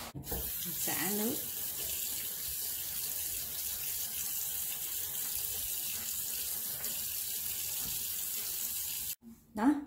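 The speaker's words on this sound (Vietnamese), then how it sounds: "Xả nước." Tap water runs into a bathroom sink to rinse it, a steady close rushing splash that lasts throughout, with brief handling noise at the start and the flow cutting off just before the end.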